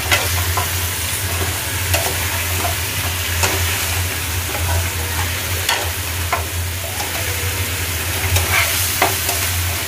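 Bhetki fish bones being stirred through masala in a wide wok, steady sizzling and frying with repeated scraping stir strokes close by, no voices.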